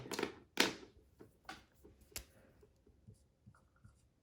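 Marker or chalk strokes drawing an angle on a classroom board: several quick scraping strokes, louder at first, then lighter taps and short lines, close and without talk.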